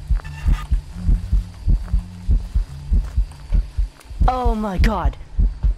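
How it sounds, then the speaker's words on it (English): Heartbeat from the horror game Phasmophobia thumps in a steady, loud double-pulse throughout, with a frightened voice exclaiming over it near the end. "I can still hear the heartbeat."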